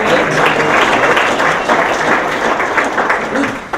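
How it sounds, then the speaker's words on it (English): Sustained applause from a conference breakout-session audience thanking the presenters, a dense, steady wash of many hands clapping up close that tapers slightly at the end. "round of applause to everybody who presented"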